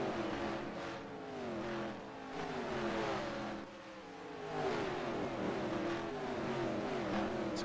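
Stock race cars at a 2008 NASCAR race at Rockingham roar past on track, engines revving and droning loud and steady with rising and falling pitch as the pack goes by, no talk over it.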